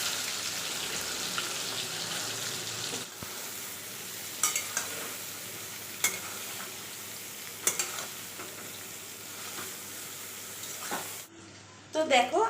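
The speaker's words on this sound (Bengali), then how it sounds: "এবার এতে দিচ্ছি তেজপাতা আর জল ঝরানো সয়াবিনগুলো। এগুলোকে একটু ভেজে ভেজে নিতে হবে।" Soybean chunks with bay leaves frying in hot mustard oil for a vegetarian soybean dish, a steady broadband sizzle with several sharp spoon-against-pan clicks, fading to quieter stirring near the end.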